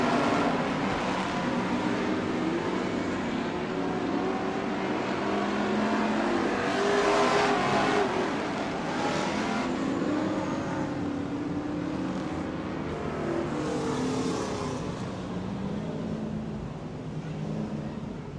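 Race cars lap a track under caution after five laps, their engines a continuous loud droning roar that swells and fades slightly as the field passes, with no clear talk over it.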